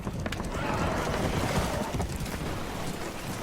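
Spooked horses whinny and neigh aboard a boat that is taking on water in Red Dead Redemption 2, heard as continuous loud, agitated horse calls over washing water and general commotion.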